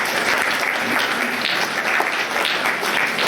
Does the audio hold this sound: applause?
yes